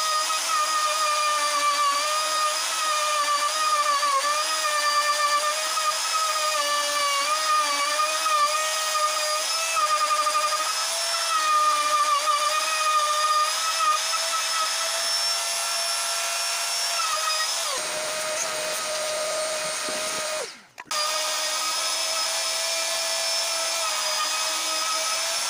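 Router spinning a bit while cutting a pickup cavity in a guitar body, a steady high-pitched whine with shifting tones that continues for a long stretch, dips briefly, and then resumes.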